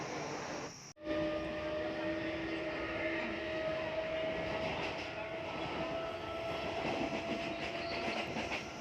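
Crowded Mumbai local commuter train heading to CST rides with a steady, close rattling rumble and faint clickety-clack of wheels on rails, after a brief dropout at the start.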